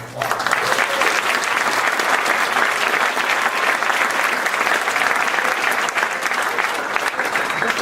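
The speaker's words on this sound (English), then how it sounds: "give him a round of applause" A large audience at the El Capitan Theatre in California claps loudly and continuously, a dense wash of applause that holds steady throughout without pause.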